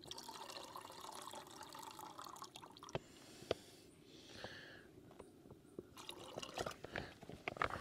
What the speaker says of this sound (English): I need to put a little more water in.